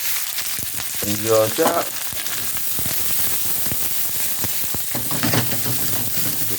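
Ingredients for beef rendang sizzle and crackle loudly in a hot wok, a dense continuous hiss with bursts of stirring scrapes, while someone speaks briefly over it.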